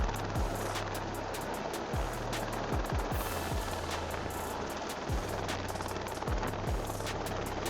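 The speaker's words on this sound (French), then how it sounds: "cet hélicoptère recharge son réservoir d'eau depuis une" A helicopter refilling its water tank from a swimming pool thumps rhythmically, loud and steady throughout, with a broad rushing wash of noise underneath.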